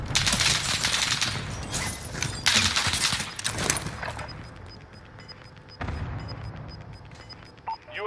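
Bursts of automatic gunfire in the video game Warzone Vanguard Resurgence, loud and dense over the first few seconds, then thinning to sparse distant shots and background game noise.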